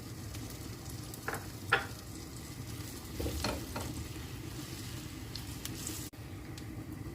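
Flour frying in butter in a pan for a soup base gives a steady soft sizzle, with occasional scrapes and clicks of stirring, close and continuous.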